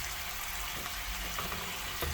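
Pasta cooking water poured into a hot pan of spicy masala macaroni sizzles and fries steadily at close range, with a faint stir near the end and no talking.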